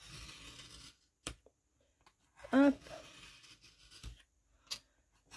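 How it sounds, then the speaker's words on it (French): A scalpel slices through gold card in short, scraping strokes, with a few small ticks and taps between cuts and a quiet voice speaking briefly. "Donc, je coupe plutôt au scalpel."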